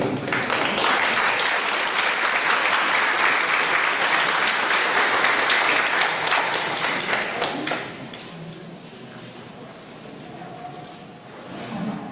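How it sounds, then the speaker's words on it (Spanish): A lecture audience gives loud, sustained applause for about eight seconds, then the clapping thins out and fades to a quieter tail. "al doctor Víctor Rodríguez Montesa brindándole nuevamente un fuerte aplauso."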